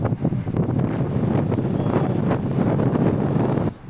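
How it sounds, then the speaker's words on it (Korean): Strong wind buffets a microphone outdoors on a high-altitude street in Bolivia, a loud continuous low rumble with gusty surges that cuts off abruptly near the end, with no voices. "아, 바람."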